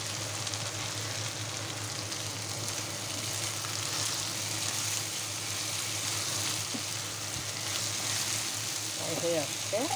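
Gima greens and garlic fry in oil in a pan, a steady close sizzle running throughout, with a brief stir and faint talk near the end.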